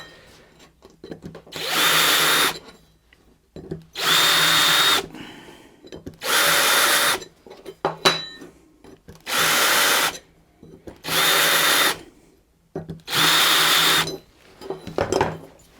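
A power drill fitted with an Axminster Tools deburring bit cleans burrs from freshly drilled holes for a Land Rover Defender TD5 folding wheel step, whirring in six even bursts of about a second each, separated by quiet pauses.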